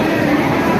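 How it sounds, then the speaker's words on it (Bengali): An express passenger train leaving Kolkata, with a loud continuous rumble of wagons rolling on the rails heard from inside the coach, steady and close. "নির্ধারিত সময় আমাদের ট্রেন ছেড়ে দিল"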